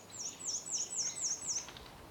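A common warbler gives a strong, robust squeaky-wheel call, six clear high rising-falling notes in an even series, fairly close and alone over faint background.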